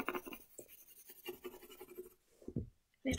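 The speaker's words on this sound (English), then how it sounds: "Nice sound, doesn't it, even just a pencil on paper." Graphite pencil shading across paper while coloring an origami wild strawberry, a soft, dry, continuous scratching with brief pauses, heard close up and alone.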